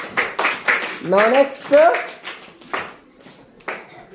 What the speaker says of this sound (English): Clap for Swahani.